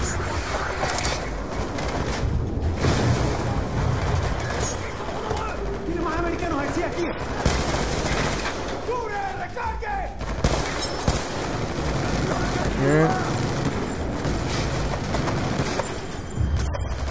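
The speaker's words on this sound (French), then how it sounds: "Je sais pas ce qui me shoot là, j'ai l'impression que c'est une grosse mitrailleuse là." Heavy machine gun fire rattles through a Call of Duty: Black Ops 2 solo campaign battle, dense gunfire and explosions packed into a constant loud barrage, with game voices talking underneath.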